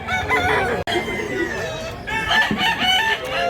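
A Black Hennei rooster, over six years old, crows at close range on a farm in Mantalungon, Barili, Cebu, with a long, loud, warbling call and a brief break partway through.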